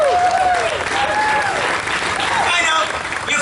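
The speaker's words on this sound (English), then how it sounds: "You're clapping because it makes sense." A crowd at a comedy performance at Freedom Fest in Knoxville applauds, steady mid-distance clapping, with whoops and cheers rising over it.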